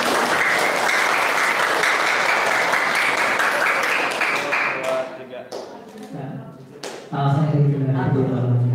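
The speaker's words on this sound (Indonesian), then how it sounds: "Mana tepuk tangannya?" Loud applause from an audience at an Indonesian Ramadan religious lecture, dense clapping for about five seconds that then thins into scattered claps before a voice cuts in.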